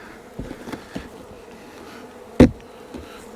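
Live honey bees buzz steadily at low level during a rescue from a doomed tree, with a sharp knock partway through and a few faint thumps, the swarm's hum running throughout.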